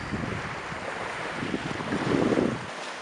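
A sailboat out in the Gulf near Bradenton Beach, with steady wind rumbling across the microphone and water rushing and splashing against the hull, swelling louder toward the end.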